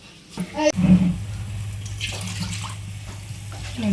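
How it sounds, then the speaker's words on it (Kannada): Water pours from a tap or vessel into a pot while rice roti dough is being prepared in a home kitchen, a steady close splash that swells briefly near the start and then settles into a constant gurgling flow. "2 ಬಟ್ಲು ನೀರು. ಈಗ ಹಾಕ್ತೀನಿ ನೋಡಿ."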